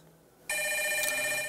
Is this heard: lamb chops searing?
no